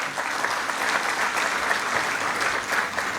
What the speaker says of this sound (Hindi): ऐसे आदरणीय राजेंद्र शुक्ला जी के लिए भी जोरदार ताली बजा के स्वागत कीजिए